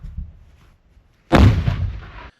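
After a quiet low rumble, a single loud artillery blast booms close by at a Ukrainian frontline position near Pokrovsk, its roar trailing off for about a second.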